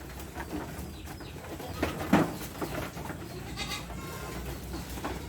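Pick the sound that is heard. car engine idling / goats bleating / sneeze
goats bleating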